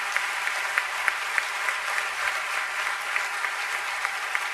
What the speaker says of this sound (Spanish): Un fuerte aplauso a esta mujer.